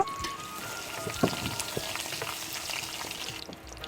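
Peanuts dropped into hot oil for a Bengali panta meal, frying with a steady crackle and a sharp spatter near the start, close and moderately loud with no talk.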